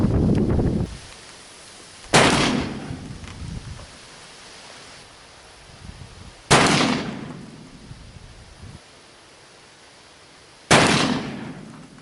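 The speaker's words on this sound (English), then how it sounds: "Shooting very good left and right, but that up and down thing, we may have to do the Wild Bill modification on this gun" Three loud gunshots from a brass-frame 1851 Pietta .44 revolver, spaced a few seconds apart outdoors, each a sharp blast with a decaying tail into quiet background.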